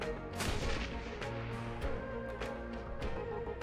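A grenade goes off in the video game Shadowrun: Hong Kong, a loud, close blast rolling with debris-like crashes, followed by further sharp impact bursts scattered through the rest of the moment.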